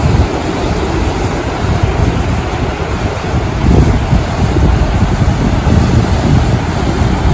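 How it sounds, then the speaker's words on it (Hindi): Sea waves at high tide wash in near a fort, a steady loud roar of surf mixed with heavy wind noise on the microphone, continuous throughout with a slight swell partway through. "वेव्स यहाँ तक आ रही है"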